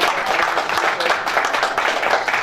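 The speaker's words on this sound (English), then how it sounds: "feel free to clap, please" Audience clapping at a political diaspora rally for Atiku, a dense, steady burst of many hands close and loud, continuous throughout with a few voices mixed in.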